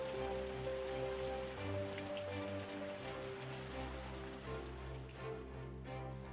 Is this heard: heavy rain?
yes